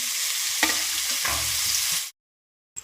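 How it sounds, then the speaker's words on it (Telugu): Bitter gourd pieces fry in hot oil with a steady, close sizzle and a few stirring scrapes, then it cuts to silence before a brief clatter at the end. "ఇప్పుడు ఫ్రై చేస్తున్నాను ఆయిల్ వేసాను వాటిలో ఫ్రై చేస్తున్నాను కాకరకాయ ముక్కలు"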